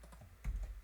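A handful of soft keyboard keystrokes tapped on a computer keyboard, a few light clicks followed by a heavier thump of a key press, close and quiet with no voices.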